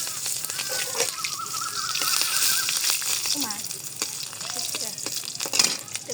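Onions frying in a pan after eggs were cooked, a steady hiss with faint clinks beneath, while a person talks intermittently over it in a village kitchen.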